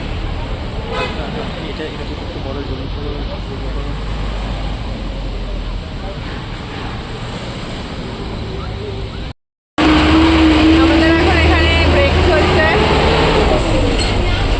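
Heavy road traffic near Pelling roars loudly and continuously, with car horns tooting and people talking nearby, broken once by a brief dropout before the din resumes.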